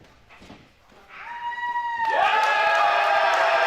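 A wrestling event crowd swells from scattered shouts into loud, sustained cheering and whistling for a wrestler named Steve, the roar building sharply midway and holding at full volume in a large arena.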